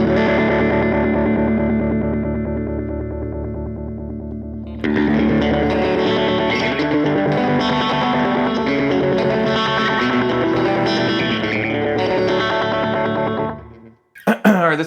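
Electric guitar through a Donner Mod Square II mini pedal in delay-tremolo mode with the rate turned up, held chords then busier strumming chopped by a fast, even pulse and trailing echoes, loud and close, ending with a brief clatter.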